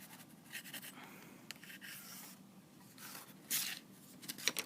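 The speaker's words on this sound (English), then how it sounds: "draw around the bottom part to form a circle" A pencil traces around a template on paper, a soft, close scratching that continues steadily for several seconds with a few louder strokes.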